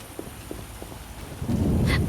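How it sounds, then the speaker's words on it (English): Rain ambience in Witcher 1 hisses steadily with a few soft taps, then swells into a louder rumbling wash toward the end; a voice is faintly present. "The rain sounds so comfy in this game."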